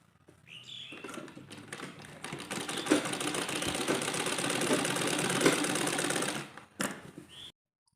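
A sewing machine stitches pleats into a Patiyala salwar in one continuous run of rapid, rhythmic needle clatter, starting softly, holding steady for about six seconds, then stopping with a brief final burst.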